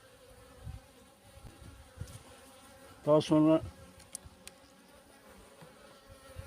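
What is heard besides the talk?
honey bees buzzing in a beehive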